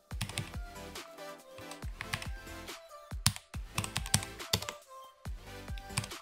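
Close, loud keystrokes on a computer keyboard as text is entered in After Effects, sharp separate clicks in quick uneven clusters with short pauses between them, with no one speaking.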